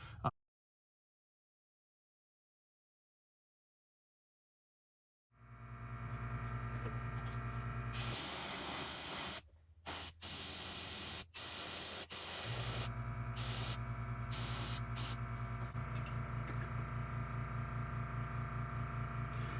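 An airbrush sprays gray paint over pink and liquid frisket, first as a steady close hiss with a low hum, then as several short bursts that stop and restart, after a silent start.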